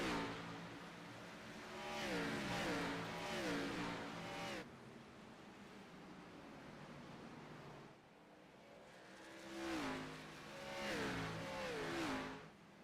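Race car engines rev and roar in a sim racing Grand National playoff race at Richmond, surging through repeated rising and falling gear shifts, a lull in the middle, then more revving passes.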